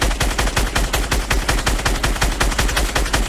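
Rapid automatic gunfire from the Fortnite video game, a loud, close and steady stream of shots with no pause.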